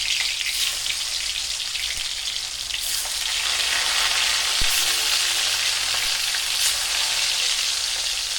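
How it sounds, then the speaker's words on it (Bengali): Fish fries in a pan with a loud, continuous sizzle and crackle, steady close spattering with a few sharp pops and stirring knocks. "মাছটা ভাজা হয়ে গেছে"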